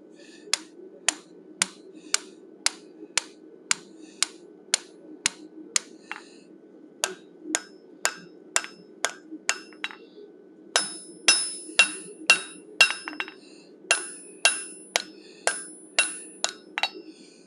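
Steady hammer blows ring out one by one, sharp and fairly close, as a blacksmith forges steel into a wolf head. A short pause breaks the rhythm before the strikes resume, coming faster and brighter.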